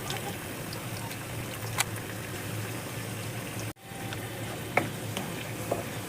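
Sweet potato (kamote) pieces sizzle steadily in hot oil with sugar, a continuous close frying hiss broken by a brief dropout and a few sharp clicks of stirring against the pan.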